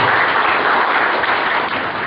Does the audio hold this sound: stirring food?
no